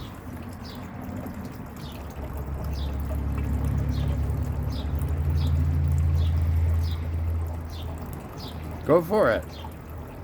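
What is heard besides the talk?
water poured as a bath for a pet parrot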